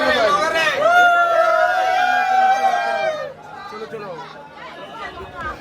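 Crowd inside Rameswaram temple at night: close, busy chatter from many people, with a few voices rising above the babble, holding steady and then thinning slightly near the end.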